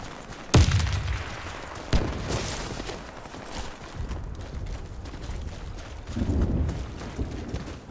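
Grenade explosion and gunfire in the shooter game Warface: a sharp boom near the start and another burst shortly after, followed by rumbling low-end aftermath and scattered shots through the clip.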